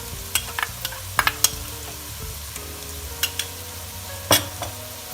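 Gentle sizzling of something frying in oil, with intermittent scraping and clicking as it is stirred in the pan.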